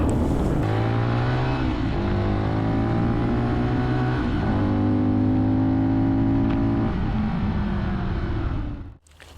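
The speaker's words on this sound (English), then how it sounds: "Engine, single, 4-stroke, 125 cubics, produce 15 horses" A QJmotor COV 125 motorcycle, with a single-cylinder four-stroke 125 cc engine making 15 horsepower, is ridden close by. Its engine note climbs and drops back in steady pulls through the gears, staying loud until it cuts off at the end.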